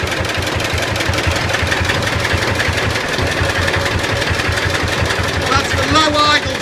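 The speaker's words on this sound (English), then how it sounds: "That's the low idle speed." A John Deere BN tractor engine at low idle, just over 600 rpm, a steady close chugging beat with even, regular firing pulses, while someone talks over it.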